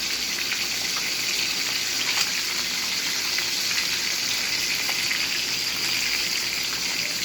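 Alumahan mackerel fries in a pan with a continuous, hissing sizzle of hot oil, steady and fairly close, with small crackling pops scattered through it and no talking.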